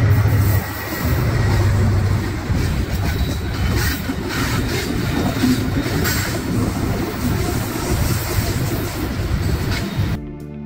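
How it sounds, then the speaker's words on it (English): Eastbound BNSF freight train with eight diesel locomotives hauling wagons through Montana, a loud steady rumble and rolling rail noise filling the whole stretch, no voices, cutting off abruptly at the end. "Eastbound 8 BNSF locomotives pulls freight wagons through Montana."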